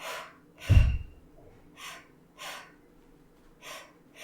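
Breath pushed out in a series of soft exhalations during a Pilates workout for runners: one sharp, louder burst followed by four quieter, evenly spaced breaths, close and alone with no talking.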